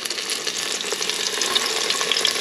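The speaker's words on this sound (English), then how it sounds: "Put in hot oil and fry it for a couple of seconds" Chicken livers fry in a pan of hot oil with a loud, dense crackling sizzle and constant popping splatter, close and continuous.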